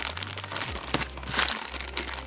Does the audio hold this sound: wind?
no